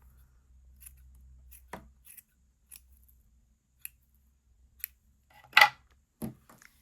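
Scissors snip yarn ends on a homemade pond spawning mop in a series of sharp, close clicks, the loudest cut near the end, in an otherwise quiet room.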